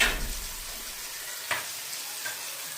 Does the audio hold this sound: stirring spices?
yes